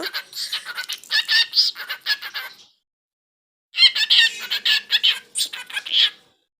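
A pet bird, kept at home, calls out in two bursts of rapid, chattering squawks and clucking sounds, loud and close, with a pause in between.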